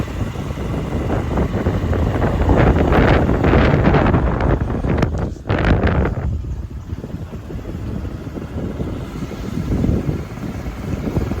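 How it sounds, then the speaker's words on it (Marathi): Wind buffets the microphone during a bike ride through the Konkan countryside near Lanja, Ratnagiri, a loud continuous roar that rises and falls over several seconds, briefly easing midway. "वारा पण आला रे"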